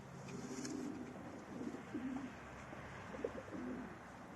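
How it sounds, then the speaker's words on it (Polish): Domestic pigeons coo in repeated soft, low murmuring phrases, several overlapping calls at close range over a quiet background. "są to piękne gołębie, naprawdę"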